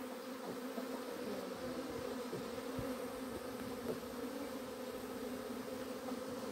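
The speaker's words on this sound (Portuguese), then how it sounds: "Aqui um enxame de abelha Apis chegando na caixa." A swarm of Apis honey bees arriving at a wooden hive box makes a dense, steady buzzing hum that holds without a break, close and constant, with no voices over it.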